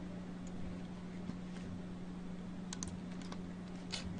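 Keys on a computer keyboard tapped in a short burst of typing to search for a program, fairly faint over a steady electrical hum, with a few sharper clicks toward the end.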